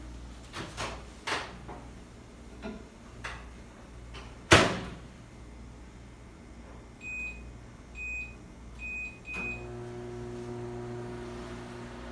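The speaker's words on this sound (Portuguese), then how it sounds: "Eu vou botar água um pouco para esquentar no micro-ondas para a gente derreter o nosso chocolate." A kitchen microwave oven heats a little water for melting chocolate: a loud door thunk, a few high electronic keypad beeps, then a steady low mechanical hum as it starts running, with no talking.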